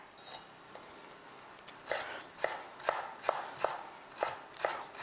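A knife chops fennel into thin julienne strips on a board, about a dozen crisp, evenly spaced cuts that grow sharper and more regular partway through, close and clear with no talking.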